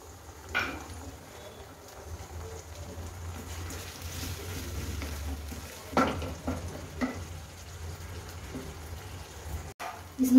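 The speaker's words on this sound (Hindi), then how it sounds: "तो मेरे प्याज अच्छी तरह से भून गए। अब हम इसमें डालेंगे टमाटर" Chopped tomatoes go into a pan of fried onions for an Indian home-style thali, giving a steady, close sizzle with occasional stirring and scraping and no talk.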